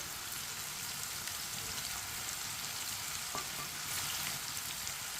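Chopped green chilies and tomatoes frying in a pan, a soft continuous sizzle with faint spoon scrapes now and then, fairly quiet and even throughout.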